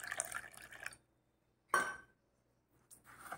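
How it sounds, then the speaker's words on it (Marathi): Water is poured into a semolina and curd batter in short bursts, a close trickling splash followed by a pause, another brief pour, then a faint final splash. "थोडंसं अर्धा कपाला थोडंसं कमी असं आपण पाणी घेणार आहोत"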